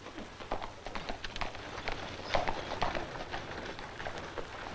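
Horses' hooves clip-clop in an uneven, fairly close rhythm as riders set off on a 1939 Western trail, with faint bird chirps over a steady low background.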